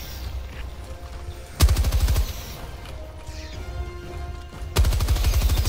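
A machine gun in a shooter video game rattles off two short, loud bursts of rapid fire separated by a quieter stretch of ambient game sound, with no talk.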